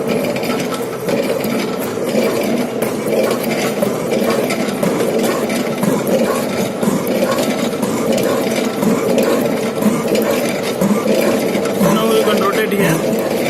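A metal shaper machine cuts a round steel rod into a square, giving a steady mechanical clatter and grinding rhythm close by while someone talks over it throughout.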